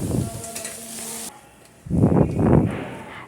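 Tomato and greens sautéing in a pan for a Tamil lentil-and-greens kootu: a soft sizzle at first, then a few louder bursts of stirring and scraping close by, with no talk.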